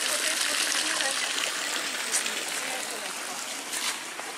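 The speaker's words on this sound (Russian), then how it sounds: "Таня, это что ли Святой Источник?" Cold water of a holy spring in a canyon, with a steady broadband rush and gurgle of flowing water running throughout at close range, with no other sound over it.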